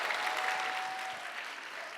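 Quiet, continuous applause for graduates at a homeschool academy graduation ceremony in a church, a steady patter of clapping heard from a distance for two seconds.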